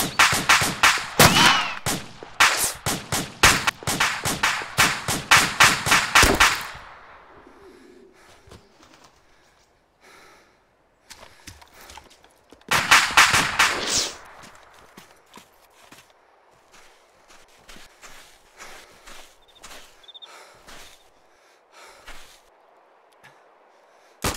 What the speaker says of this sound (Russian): рейлган какой-то у него. Так грозно стреляет.